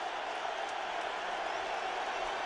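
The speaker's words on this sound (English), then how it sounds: "And the crowd on its feet getting loud." A stadium crowd at a 2009 NFL game between the 49ers and the Colts roars steadily on a third down, forming a dense, unbroken wall of noise heard from a distance.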